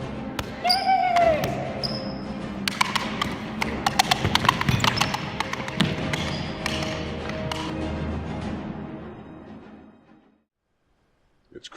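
Horse hooves clip-clop in a quick, uneven patter during a medieval joust, close and busy over a few seconds, with scattered thuds and voices underneath before fading to silence.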